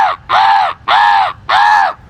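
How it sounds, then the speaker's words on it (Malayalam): Three loud, drawn-out caws ring out close by at an even pace, with crows gathering in the trees. "ഈ ആളുടെ സൗണ്ടും കാക്കയുടെ സൗണ്ടും ഒന്നാ"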